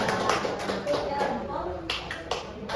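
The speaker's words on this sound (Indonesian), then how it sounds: "Boleh tepuk tangan sekali lagi?" Audience applause for a speaker at an Indonesian teaching presentation, moderate scattered clapping from a modest group, heard mixed with a person speaking.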